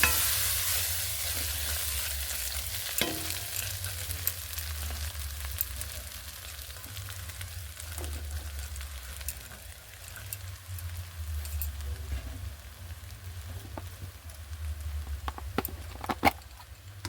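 Rice stir-fried in ghee for fried rice, a continuous close sizzle with scraping stirs and occasional spatula clacks against the pan.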